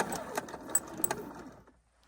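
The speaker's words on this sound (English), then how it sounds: "The recoil of the hose is a great feature as well" A garden hose winds back onto a swivelling retractable reel, giving a quick rattling, whirring clatter with irregular knocks and clicks. It is close and fairly loud, then it stops abruptly into near silence.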